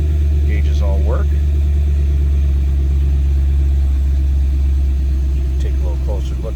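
A 2006 Ford Mustang GT V8 with a non-stock exhaust idles with a deep, steady rumbling throughout, loud and close, with a few faint squeaks in the background.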